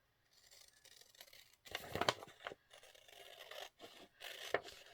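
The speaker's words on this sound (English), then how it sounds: "Alright, so we're going to open this up. We're coming in with the scissors." Scissors snipping through a legal-sized paper envelope during a craft project, with short close crisp cuts and rustling paper handling in a quiet room.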